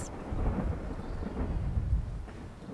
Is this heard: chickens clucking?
no